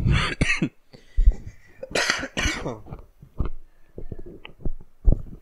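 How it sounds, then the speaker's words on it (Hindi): Repeated harsh coughs come in clusters close to the microphone, with a bit of throat clearing between bursts. "खांसी क्यों हो रही है"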